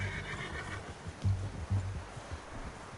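Horse neighing in a video game, a short whinny followed by low snorting and a couple of heavier thuds, close and fairly quiet against a soft outdoor ambience.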